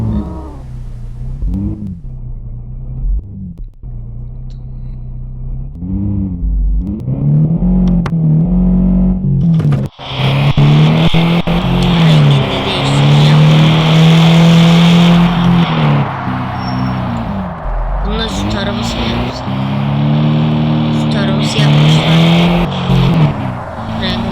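A video game car engine revs up and down repeatedly, then roars louder and steadier with shifting pitch, accompanied by tire skids and game sounds.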